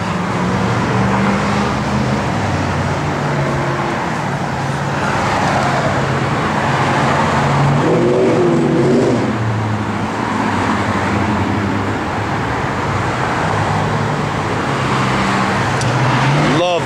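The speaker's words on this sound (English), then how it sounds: "It's got all brand new Flowmaster dual exhaust with the chrome tips." A 1970 Dodge Coronet R/T idles with brand new Flowmaster dual exhaust and chrome tips, a loud steady low rumble that swells slightly midway, with people talking over the engine.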